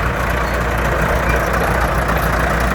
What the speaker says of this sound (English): 4-cylinder diesel